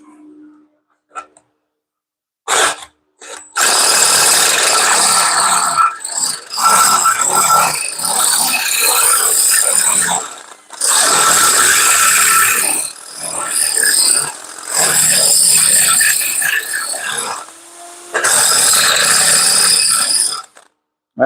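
A power drill with a DeWalt bit bores through thick metal in repeated loud bursts of whining grind, each lasting a few seconds, separated by short pauses as the drill is eased off and restarted.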